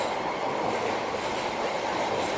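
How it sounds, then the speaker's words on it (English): A Toei Oedo Line subway train pulls into a Tokyo station platform with a steady, loud rushing roar and faint rail clatter that stays constant throughout. "here comes the next train here"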